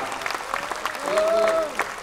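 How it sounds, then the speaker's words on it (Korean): Audience at a Busan leaders' rally applauding a professor, a crowd clapping in a loose burst while a voice speaks over it through a microphone. "여러분 감사의 박수를 보내주시기 바랍니다"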